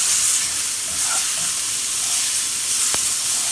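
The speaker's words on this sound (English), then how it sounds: "So now I'm just going to put some butter in here." Butter sizzles steadily in a hot pan on the stove, a loud continuous hiss with faint crackles, close up, while preparing a bagel breakfast sandwich.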